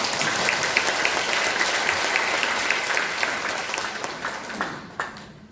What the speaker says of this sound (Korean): 우리 목사님께 박수 올리겠습니다